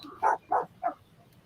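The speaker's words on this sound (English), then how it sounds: "I hear the dog." A dog barks three times in a short, evenly spaced series, fairly close and clear, with no talking over it.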